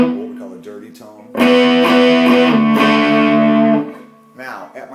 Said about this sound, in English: this is the little amplifier. Distorted, what we call a dirty tone.